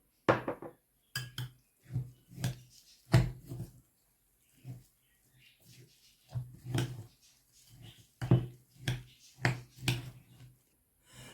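Stuffing for Adana-style stuffed grape leaves is mixed with oil in a bowl by hand: irregular, close, soft wet clicks and squelches separated by quiet gaps.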